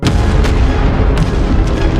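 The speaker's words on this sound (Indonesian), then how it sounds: "kemudian terjadi ledakan dahsyat" A huge explosion from a failing energy core in a futuristic district of 2071 comes as a loud, sustained roaring blast, with repeated booming surges over a constant heavy rumble.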